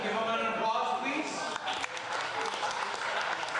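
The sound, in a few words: audience applause at a fundraiser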